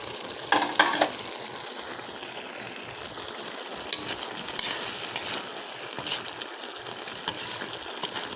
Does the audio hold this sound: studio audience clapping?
no